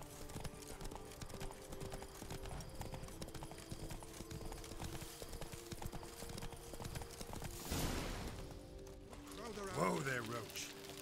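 Hooves of a horse named Roach clip-clop steadily on a road, a continuous rhythmic plodding that carries on under low talk, with a brief snort or whinny near the end.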